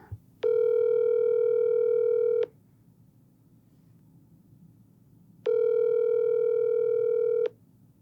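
Two steady landline telephone tones open a phone call, each lasting about two seconds with a pause between, clear and alone over a faint low background hum.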